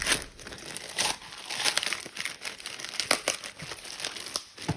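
Packing tape is peeled and torn from a parcel in repeated crackling, ripping bursts, close up with no talking.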